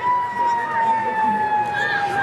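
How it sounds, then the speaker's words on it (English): Fire truck sirens wail at a nighttime holiday parade, a steady high tone held throughout, fairly loud and close, with people talking underneath. "Oh, and I can hear the fire trucks."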